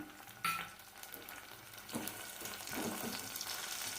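Tomato pieces sizzle and fry in a pan while rasam is being made, a faint steady crackle with a light stir or clink now and then and no talking.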